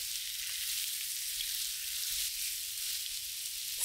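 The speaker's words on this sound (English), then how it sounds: "Mix and let sear for 2 minutes." Pork ribs searing in a pan with salt, crushed pepper and sugar, giving a steady bright sizzle heard close and fairly quiet, with a few faint stirring taps.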